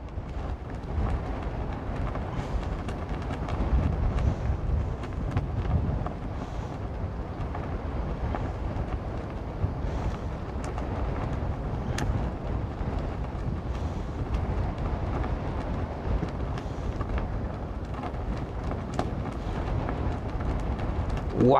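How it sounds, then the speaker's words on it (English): Strong wind gusts buffet the microphone outdoors during a long-distance DJI Mini 3 Pro drone flight, a steady loud roar with low rumbling that persists throughout with no talk. "Wow, the wind is blowing like crazy."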